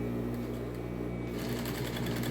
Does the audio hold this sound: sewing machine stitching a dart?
yes